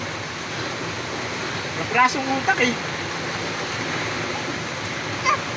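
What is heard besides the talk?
heavy rain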